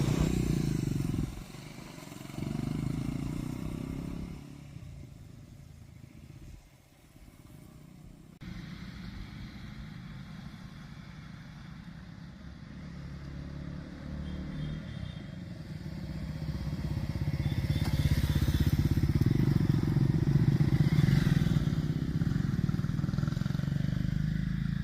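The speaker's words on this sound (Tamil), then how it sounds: "நானும் நண்பரும் 2 பேரும் வண்டியை எக்ஸ்சேஞ்ச் பண்ணிட்டு மாற்றி மாற்றி இறங்கிட்டு இருந்தோம்" A Triumph T4 and a Bajaj NS400Z motorcycle riding downhill on a hill road, engines droning steadily with wind rush, the sound swelling louder toward the end; no talking.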